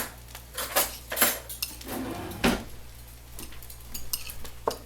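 Stainless steel cutlery clinks and clatters against dishes in a kitchen while someone fetches a fork after eating fried rice, with several bright metallic chinks spread through the clip and no talking.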